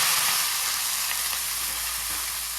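Saag greens fry in a pan with a steady, close hiss of sizzling that holds at an even loudness throughout, no voices present.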